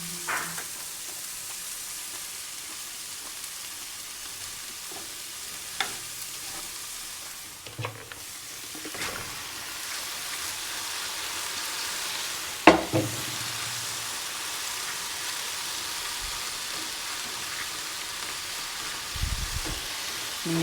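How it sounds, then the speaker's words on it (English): Vegetables simmer and sizzle in a pan with a steady, soft frying hiss, broken by occasional stirring scrapes and clinks. "Let them simmer. Release all their juices."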